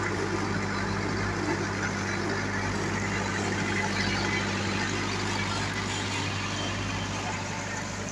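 A tractor working a GL467 rotary tiller on a farm in Polesia gives a steady, close, continuous engine drone with broadband rumble and no letup.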